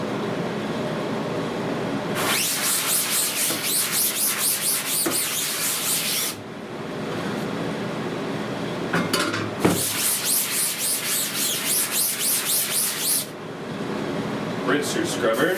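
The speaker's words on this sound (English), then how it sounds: "You're going to want to scrub both sides with this." A screen-printing screen being scrubbed on both sides during screen reclaiming: two long, loud, harsh bursts of rhythmic scrubbing separated by a brief lull, over a steady background hiss.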